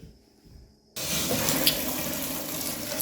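After a brief quiet moment, water bursts from a shower hose in a bathroom under renovation and keeps gushing at a high flow rate as a loud, steady hiss.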